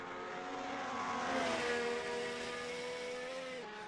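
A high-revving 1990s DTM touring car engine in a racing video game at Silverstone whines steadily, pitch rising and then dropping as it shifts, with no talking.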